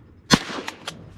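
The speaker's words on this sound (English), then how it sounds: "Shoot that drake." A single shotgun blast fired at a mallard drake during a duck hunt over an ice hole, a sharp close report followed by a couple of fainter echoing pops.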